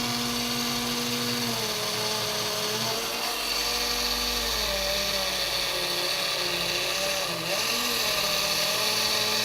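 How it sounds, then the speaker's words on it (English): A homemade micro sander's small motor runs above 12 volts with a loud, steady whine whose pitch shifts slightly as the speed changes, continuous and close. "It's a little loud at 12 volts, but I'm going to turn it up."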